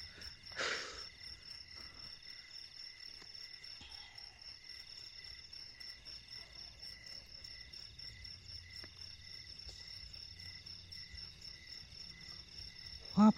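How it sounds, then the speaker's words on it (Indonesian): Forest crickets chirping at night near a collapsed hut at a campsite, a steady high-pitched shrill trill running throughout, with faint rustles and a brief knock at the start. "Ih, jangkrik alas"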